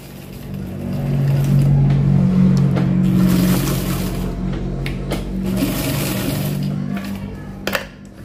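A sewing machine stitches forward and back over overlapped seams on a trouser hem, a loud close motor whir that rises and holds for several seconds before easing off, ending in a few sharp clicks.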